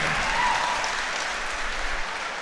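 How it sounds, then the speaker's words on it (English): Crowd at a Halifax Forum fight night breaks into steady, dense applause, a continuous wash of clapping from a large audience, loud and sustained with no talk over it. "a big round of applause for both of these warriors here tonight"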